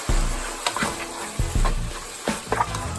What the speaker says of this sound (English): It's frying right on up.